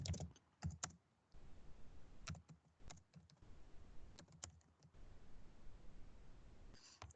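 Typing a response on a computer keyboard: bursts of quiet close key taps in uneven clusters, separated by brief pauses, with no talking over them.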